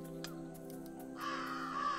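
A crow caws in a video game, a few harsh calls that rise to a louder, close-sounding caw over a steady musical hum, with no talking.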